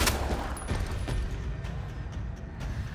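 Gunshots fired in the Resident Evil 2 remake survival horror game; a couple of sharp reports in quick succession over a dark, rumbling ambient backdrop, moderately loud.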